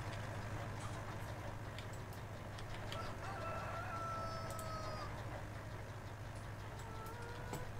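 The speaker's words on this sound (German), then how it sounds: "Die Hühner machen eigentlich nur Ärger." Chickens cluck and a rooster crows in the Landwirtschafts-Simulator 19 farming game, the calls faint and scattered over a steady low background hum.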